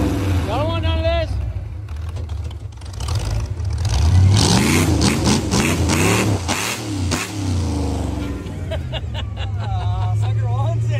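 Grave Digger monster truck engine revving loudly, rising and surging through the clip, with people talking and chattering over the roar throughout.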